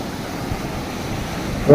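Rough Arabian Sea waves wash ashore against rocks along the coast, a steady soft rush of surf and wind close by, with a brief louder surge at the end.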